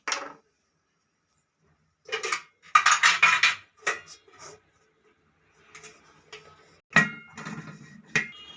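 A metal idli steamer pot is set down and handled in a home kitchen: scattered clanks and rattles in short bursts separated by quiet gaps, close and fairly soft.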